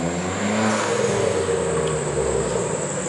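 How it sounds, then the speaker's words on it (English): A car drives past outside with a rising then fading engine roar that sits over a steady background hum, moderately loud and without speech. "Sorry if you guys hear that car"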